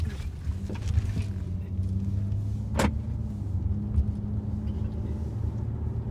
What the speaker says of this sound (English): a car pulled on from that way